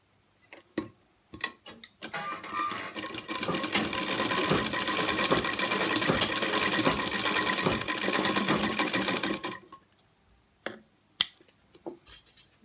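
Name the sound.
sewing machine stitching Laddu Gopal dhoti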